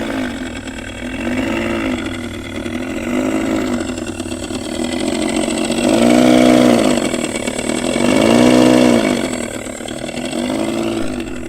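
An Ola S1 electric scooter's simulated vintage engine sound: a steady engine-like hum with a rhythmic puttering, swelling louder twice in slow waves, like an old scooter motor revving gently.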